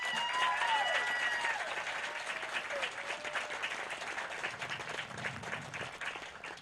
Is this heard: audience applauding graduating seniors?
yes